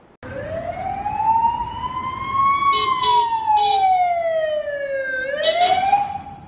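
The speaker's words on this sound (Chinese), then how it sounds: "警车鸣笛赶往现场" Police car siren wailing up and down in long sweeping tones, loud and close, during a police drill at a hospital, with short electronic yelps breaking in twice.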